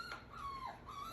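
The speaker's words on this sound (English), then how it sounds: "If you can hear my puppy dog in the background" A puppy dog whimpers in the background of a home kitchen, thin high whining tones rising and falling in two short cries, faint and alone.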